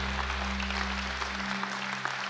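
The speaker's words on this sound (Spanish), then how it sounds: "Vamos dando fuerte ese aplauso a nuestro Señor" A church congregation applauds at an Easter service, sustained even clapping over a steady low organ-like hum that drops out near the end.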